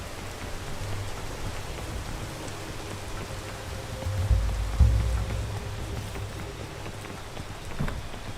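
Steady, dense rainfall in the mountain-climbing video game PEAK: a constant hissing downpour with a low rumbling bed that swells briefly midway, heard alone.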